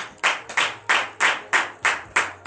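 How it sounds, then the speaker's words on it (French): A church congregation claps in rhythmic acclamation during a French-language worship service, with about eight sharp, loud group claps landing at a steady beat with no talking. "Donnez l'acclamation à Jésus"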